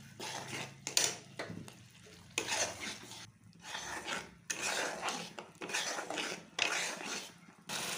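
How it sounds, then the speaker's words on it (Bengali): Boal fish and ridge gourd being sautéed with mustard paste in a pan, heard as repeated bursts of spatula scraping and stirring clatter over a soft sizzle, close and fairly quiet, with no talk. "এখন আমি আধা সর্ষাটাকে দিয়ে একটুখানি একটু সাঁতরিয়ে নেব"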